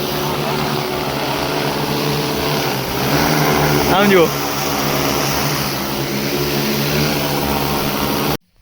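An agricultural drone that has been spraying pesticide on a castor field hovers and flies with a loud, steady propeller whine and buzz throughout, nearby, and someone speaks briefly over it.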